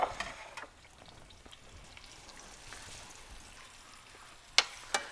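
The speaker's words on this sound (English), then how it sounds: "You can hear that nice sizzling going on." Chicken breasts sizzle in hot olive oil in a pan, a steady soft frying hiss with a few sharp pops and crackles near the end.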